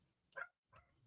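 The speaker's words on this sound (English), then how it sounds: "God, that dog needs to shut up, bro." A dog barks twice, faint and short, two sharp separate woofs against a quiet background with no talking.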